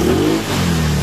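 A Mio Amore scooter engine with a stock carburetor being tuned and re-jetted revs at mid throttle, a close, steady drone that dips briefly and then rises again.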